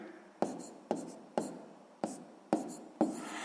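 Pen strokes on paper while writing out a fraction answer for a sixth-grade math exercise, six sharp taps and scratches at a steady half-second rhythm, close and fairly faint, with no talking.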